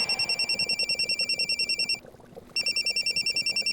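A telephone rings in an indoor comedy-drama scene, sounding as a steady electronic trill of rapid repeated pulses that breaks off for a moment and then resumes, loud and alone with no talking.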